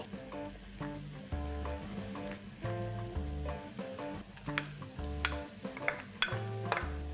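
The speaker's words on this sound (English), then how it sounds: "Let's mix all of this well, saute this for 30 seconds, and then we add in some freshly cut tomatoes." Garlic, chilies and fresh tomatoes sautéing in a pan for a North Indian gravy, a soft sizzle with a few spoon clinks, heard under steady background music.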